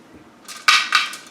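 Metal wing nuts being tightened on a pressure canner lid, giving a few bright, sharp metallic clinks and clanks in quick succession, close and fairly loud.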